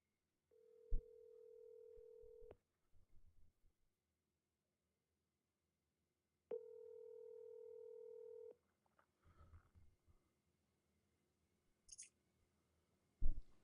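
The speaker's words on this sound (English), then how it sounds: "Let me make a phone call." A telephone call being placed: two long steady tones about four seconds apart, each followed by faint clicks and small handling noises, with a short high beep near the end, quiet and close.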